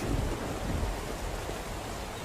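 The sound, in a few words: rain and thunder in the video game SCUM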